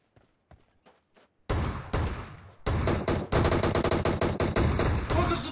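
Rapid, loud automatic gunfire in PUBG Mobile, a few soft thumps followed by sustained close bursts of repeated shots.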